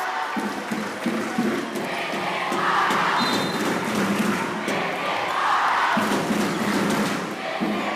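A school gym crowd cheers during a boys volleyball spirit-night match, a loud, sustained roar that swells and dips, with thumps and occasional voices mixed in.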